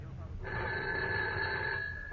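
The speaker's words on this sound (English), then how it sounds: "But then my phone rang." A telephone rings steadily, a sustained electronic tone that starts just under half a second in and holds for over a second before cutting off, with a faint voice underneath at the start.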